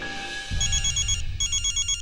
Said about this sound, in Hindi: दुबे का फोन है।